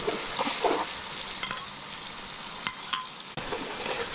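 Onions with tomato juice fry and sizzle in a pot while a spoon stirs and scrapes, giving a steady hiss broken by several soft knocks and scrapes, close by, no speech.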